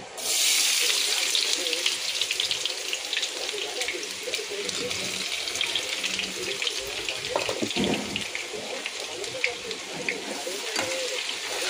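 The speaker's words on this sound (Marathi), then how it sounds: "आपलं तूप गरम झालंय, आता आपण ह्याच्यात कांदा टाकूया" Chopped onion hits hot ghee in a pan and fries with a steady, hissing sizzle that holds throughout, fairly loud and close, with some faint clatter underneath.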